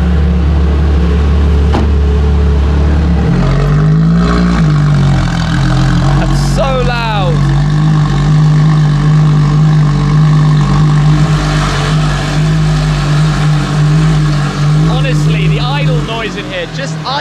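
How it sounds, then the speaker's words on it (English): A Ferrari LaFerrari with a straight-pipe exhaust idles and grumbles nearby as it rolls into a garage, rising briefly in a few revs over a low steady rumble, with occasional other noises in the background. "enjoy some grumbles as the car goes back into the garage"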